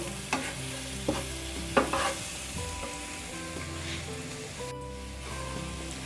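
Paneer cubes are gently stirred with capsicum and onion in a sizzling pan, with a soft frying hiss underneath and a few distinct spoon scrapes and knocks against the pan. No one speaks.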